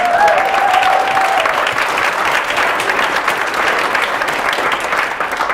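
An audience claps steadily and loudly, a dense wash of applause that holds for several seconds before easing slightly.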